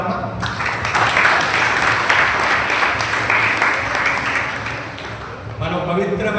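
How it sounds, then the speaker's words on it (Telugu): A church congregation clapping together, a dense sustained burst of many hands that swells and then tapers, with a voice speaking over it near the end. "అందరు క్లాప్ పట్టండి అమ్మా"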